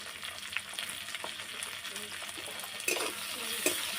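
Turmeric paste frying in a pan, a soft continuous sizzle with a few sharper crackles and spatters rising near the end, fairly quiet and close.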